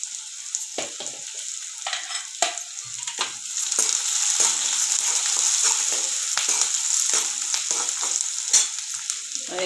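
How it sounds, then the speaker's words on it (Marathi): Green chillies sizzle steadily in a pan, a continuous bright frying hiss with scattered crackles and pops, close and fairly loud throughout with no talking. "मग मिरची घालून घेऊया."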